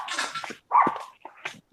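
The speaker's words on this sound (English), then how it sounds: "That's why you hear all the dogs barking." Neighborhood dogs bark in short, close bursts, a few sharp barks separated by brief gaps with no other sound between them.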